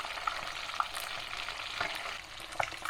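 Wolf fish frying in a pan for a Surinamese fish curry, a steady soft sizzle with small crackling pops and occasional scraping stirs, close and continuous, no talking.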